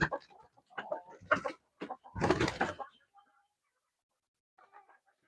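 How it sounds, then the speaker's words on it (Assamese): Local chickens cluck and squawk in short, close bursts as they are released from their coop, with a louder flurry midway and a few faint clucks trailing off. "এইখিনি মোৰ মুৰ্গী।"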